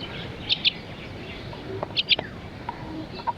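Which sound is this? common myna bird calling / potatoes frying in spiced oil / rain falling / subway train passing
common myna bird calling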